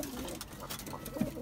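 Pigeons coo softly and steadily in a loft, a low murmuring that runs under faint background noise for the whole moment.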